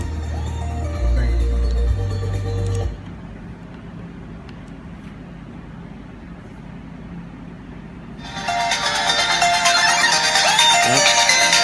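A custom ringtone imported onto an iPhone plays loudly at raised volume: a short tone burst at the start, a quieter stretch, then bright, dense ringing music filling the final few seconds.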